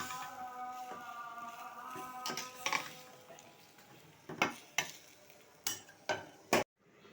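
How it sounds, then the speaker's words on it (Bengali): A spoon or spatula stirs a dish of gourd curry with green chilies in a metal pan, starting as a soft scraping under a faint sizzle and ending in a run of sharp, close clanks against the pan. "কিছুটা কাঁচা ঝাল আমি দিয়ে দিলাম এখন ভালো করে নেড়ে দিব আরো একবার"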